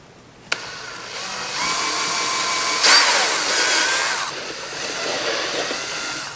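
A power drill whirs steadily for several seconds, its pitch shifting as it bites into plastic on a dirt bike, after a sharp click at the start.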